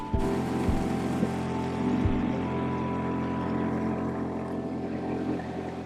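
A 6HP Suzuki outboard motor on a small skiff drones steadily as it runs low on gas, a continuous near hum with a couple of brief knocks early on.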